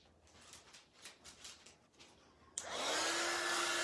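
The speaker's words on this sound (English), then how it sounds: "Trust your little heat tool again." A small heat tool used to melt embossing powder switches on after a few soft rustles and then blows as a loud, steady whoosh with a faint motor whine, close by.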